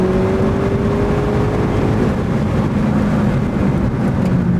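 A stock 2018 Ford Focus ST accelerating hard on a race track, a loud sustained engine drone with rising pitch heard from inside the car, over steady road and wind roar.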